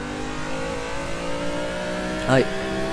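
A car engine in the Assetto Corsa driving game on the Haruna mountain course holds a steady drone during a drift, with a brief sharp rise in pitch near the end, alone and fairly quiet.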